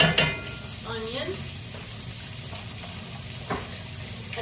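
Whole onion sautéing in a very hot pan with leftover meat juices, a steady crackling sizzle with a couple of stirring scrapes, no speech over it.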